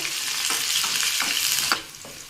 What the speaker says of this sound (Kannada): ಸ್ವಲ್ಪ ಕರಿಬೇವನ್ನ ಹಾಕ್ಕೋತಾ ಇದ್ದೀನಿ ಸ್ವಲ್ಪ ಈರುಳ್ಳಿಯನ್ನು ಸ್ವಲ್ಪ ಫ್ರೈ ಆಗಬೇಕು